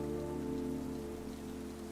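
Rain weather in a Pokémon battle game gives a steady, dense hiss of falling rain with a faint low hum underneath, continuous and even, with no talk.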